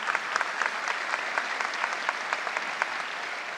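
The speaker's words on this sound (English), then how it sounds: "let's give him a round of applause" Steady audience applause at a high school graduation ceremony, a dense, even roar of many hands clapping with a few sharper individual claps standing out, sustained throughout with no voices over it.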